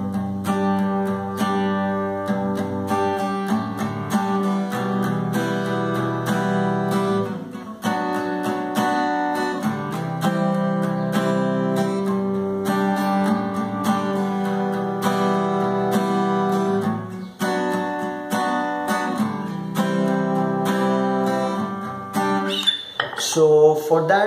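An acoustic guitar plays the pre-chorus of a song, with strummed chords and ringing notes carrying steadily and close for over twenty seconds, no voice.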